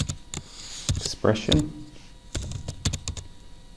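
Sharp clicks of computer keyboard keys come in short irregular bursts close to the microphone, interleaved with someone speaking.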